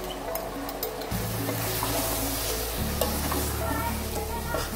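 Chicken biryani masala sizzles and fries in a pan while a spoon stirs it, a steady close crackle running throughout with scraping shifts in the stirring.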